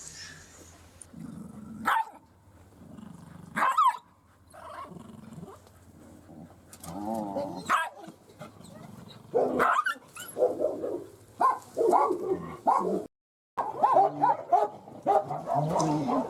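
A frightened small dog at an animal shelter in Becej barks, yips and growls in repeated bursts, fairly close, with intermittent whimpers and some human voices in between.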